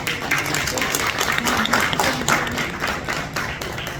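Teachers, students and media members at a school event in Kalna clap for West Indies cricketer Clive Lloyd, a loud close patter of many hands that rises and falls slightly over a few seconds.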